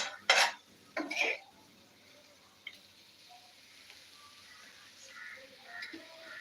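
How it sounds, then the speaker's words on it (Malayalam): Small shallots stirred in a pan for a tea-shop style chicken curry, with two loud clattering scrapes of the spoon at the start, then a faint sizzle and a few soft clinks, no talk. "നമ്മൾ ചെറിയ ഉള്ളി ഇട്ട് അത് ഇളക്കിക്കൊണ്ട് ഇരിക്കുകയാണ്"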